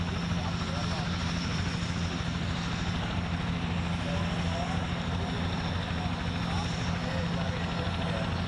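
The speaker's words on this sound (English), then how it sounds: "So the helicopter has got his electric on zero right now, so Frank doesn't have any rotor wash to do" Continuous loud thrum of a helicopter's rotor and engine, steady throughout, with a voice talking over it.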